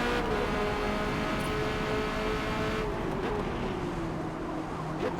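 Engine of a Corvette C8.R race car lapping Hakone in a racing video game: a steady, loud, high-revving drone held near and constant, pitch sagging slightly as it eases off near the end, with no talking.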